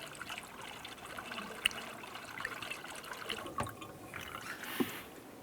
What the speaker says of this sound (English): add the appropriate antifreeze to this tank and get it into that cold mark